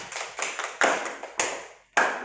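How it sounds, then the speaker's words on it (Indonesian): Several short bursts of hand clapping in quick succession, fairly close, each burst fading before the next. "Tepuk tangan"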